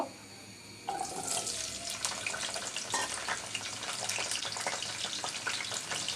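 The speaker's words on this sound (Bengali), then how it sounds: "এবার আমি এখানে দুইটা বড় সাইজের আলু এই সাইজের করে কেটে নিয়েছি এটাকে এবার আমি একটু ভেজে নিব" Two large potatoes, cut into pieces, frying in oil in a frying pan for a mixed vegetable fry. A steady, close sizzle with fine crackling begins abruptly after a quiet first second and continues evenly.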